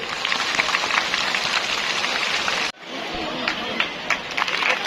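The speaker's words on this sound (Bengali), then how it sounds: "আরো জোরে করতালি।" A crowd of guests at a school event in Bogura claps loudly and steadily, a dense patter of applause that breaks off briefly and then resumes.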